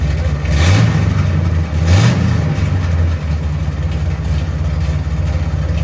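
A 1970 Chevy Chevelle SS 454 big-block V8 with headers and straight-pipe exhaust, close and loud, blips its throttle twice in quick revs before settling into a deep, steady, rumbling idle.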